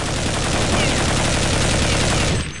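Dense, loud burst of rapid gunfire from a Counter-Strike match, a continuous volley of overlapping shots that cuts off sharply near the end.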